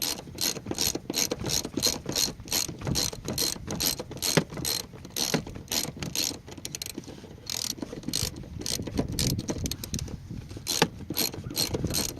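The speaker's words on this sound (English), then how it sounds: "Take a ratchet." A ratchet tightens bolts while a Fusion car's interior is put back together, producing long bursts of rapid, crisp clicking close by, broken by brief pauses between strokes.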